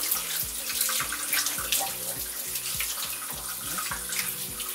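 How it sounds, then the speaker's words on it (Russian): Running tap water splashes steadily over a salted goat leg in a sink, rinsing off leftover salt while making basturma, with uneven gurgling and spattering, close and continuous. "смываем остатки соли"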